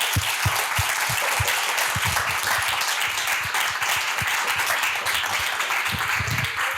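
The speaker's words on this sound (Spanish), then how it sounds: "le damos un fuerte aplauso." Applause from an audience at a literary talk with a writer, a dense, steady patter of many hands clapping together throughout, moderately loud and without speech.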